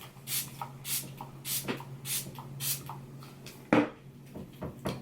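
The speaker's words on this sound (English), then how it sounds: "I'm just going to go over and spray it again one final time with the Fix Plus." A spray bottle of makeup setting spray hisses in a quick series of short bursts, close by, followed by a soft clatter.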